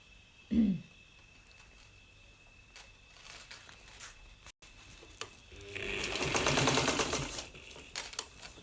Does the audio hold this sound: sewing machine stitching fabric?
yes